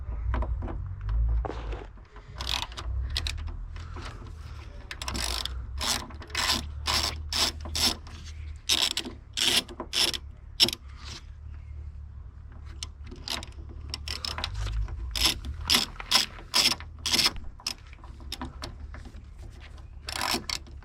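A hand ratchet works a 4mm hex bolt out of a BMW E92/E93 door, giving rapid runs of sharp, close clicking in bursts separated by short pauses.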